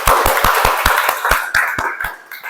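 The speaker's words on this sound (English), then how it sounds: "Applause for everybody." An audience applauds on cue at an evening speaking workshop, with loud, close, rhythmic clapping in distinct bursts that continue steadily, then thin out toward the end.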